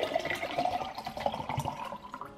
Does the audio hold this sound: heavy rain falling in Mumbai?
no